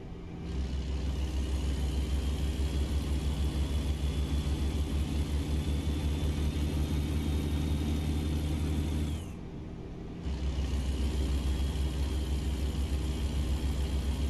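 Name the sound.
long-nose Kenworth truck engine and Jake brake, American Truck Simulator video game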